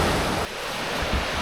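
Sea waves and surf breaking on the Welsh coast, a steady broadband wash with a brief dip partway through, mixed with some wind noise on the microphone and no voices.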